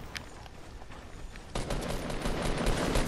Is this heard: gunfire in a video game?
yes